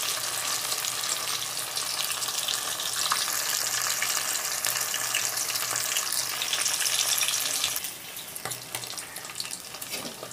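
Fish fries in a pan over low-medium heat, giving a steady close crackling sizzle that runs unbroken for most of the stretch, then drops to softer, patchier spitting near the end.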